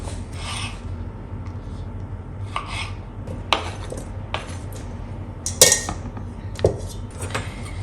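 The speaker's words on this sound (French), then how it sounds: "je vais découper également quelques tomates cerises" Knife cutting small cherry tomatoes into quarters on a board, a scattered series of sharp taps and slicing scrapes at an uneven pace, close and clear with no talk.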